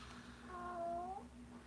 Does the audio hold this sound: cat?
yes